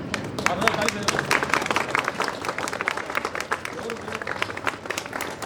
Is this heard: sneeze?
no